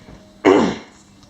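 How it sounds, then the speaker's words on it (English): A single sharp cough bursts out close to the mic, then fades quickly into a quiet room. "I was trying to hold back that cough"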